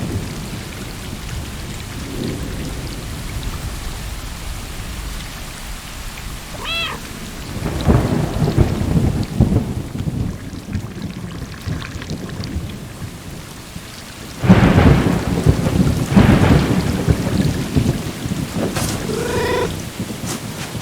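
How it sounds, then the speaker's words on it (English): Steady rain falling on water and cement in the video game Stray, with deep rolls of thunder swelling partway through and again near the end, heavy and close over the constant downpour. "the rain falling down in water or on cement"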